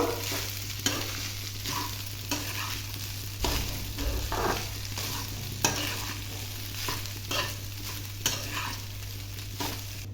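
Rice being stirred into a pan of fried ingredients for pachi karam rice, with repeated scraping strokes of a spoon and a soft sizzle underneath, close and steady, over a constant low hum.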